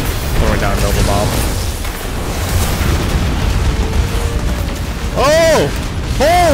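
A Nova Bomb super ability detonates in Destiny 2, a rumbling, booming blast with heavy low rumble that builds through the clip amid battle noise, followed by a voice exclaiming near the end.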